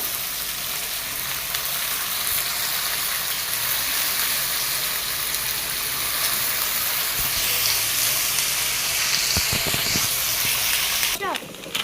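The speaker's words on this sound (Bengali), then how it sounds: "এবার আলুটা দিয়ে দেবো। আলুটা দিয়ে একটু নাড়াচাড়া করে ভেজে নেব" Potatoes frying with ginger and chili in a pan, a steady close sizzle running throughout with stirring clatter and scrapes near the end.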